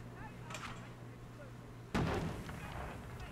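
Firework bangers in the video game We Happy Few go off as one sudden loud blast about two seconds in, with a quieter crackling tail after it. Faint game ambience runs underneath.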